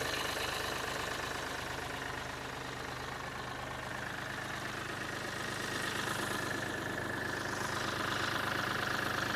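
A 2017 Mahindra TUV300 T8 with the 1.5-litre diesel engine idles steadily right after a start, a continuous close mechanical rumble with a faint knocking texture and no talk over it.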